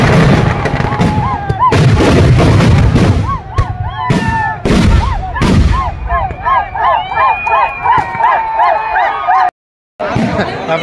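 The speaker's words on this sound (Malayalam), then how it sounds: "എന്തായാലും വെടിക്കെട്ടൊക്കെ അടിപൊളിയായിട്ടുണ്ട്." Fireworks at a temple festival burst in a rapid series of loud, booming explosions, some crackling and whistling, with crowd noise and chatter throughout and a brief cut near the end.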